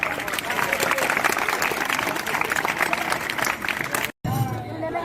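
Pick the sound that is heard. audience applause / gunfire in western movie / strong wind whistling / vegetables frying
audience applause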